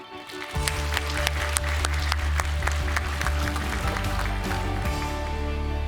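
A studio audience at a televised Korean citizens' assembly debate applauds to welcome a professor, steady clapping from many hands over a sustained low musical tone, continuing evenly throughout.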